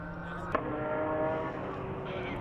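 Race cars in a BMW M Performance Parts race series stream past on a circuit, a steady engine roar held at moderate distance, with a brief sharp knock early on.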